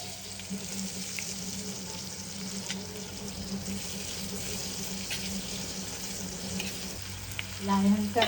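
Chopped onion fries in oil with mustard seeds, cumin, chili, turmeric and curry leaves in a pan for jowar puffs upma, a steady close sizzle throughout with a brief clink of utensils near the end.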